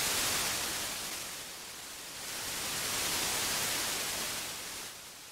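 Broad, hissing noise from a Mother Dessicant modular synthesizer swells and recedes in slow waves, brightening and dulling as it sweeps around, steady and fairly loud with no voices.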